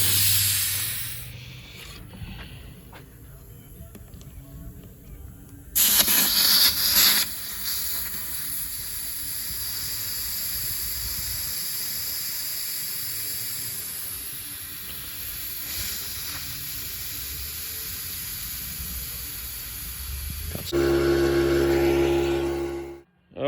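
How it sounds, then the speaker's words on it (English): A car tire being aired up with compressed air to about 36 psi after its valve core goes back in; a steady, moderately loud hiss of air runs for most of the stretch, with brief louder bursts and handling noises. "now I am going to put the valve core in, air it up to the right pressure"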